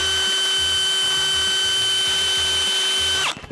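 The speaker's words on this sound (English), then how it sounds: "I'm gonna try to see if I can drill out just a little bit more" A power drill with a titanium bit whines steadily at close range while drilling out a stuck piece, then the motor cuts off abruptly near the end.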